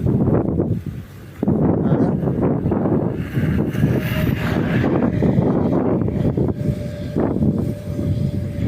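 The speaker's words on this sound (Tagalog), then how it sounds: "Malakas kasi hangin" Heavy, steady wind roars and buffets the microphone throughout, with low rumbling gusts that dip briefly before surging back.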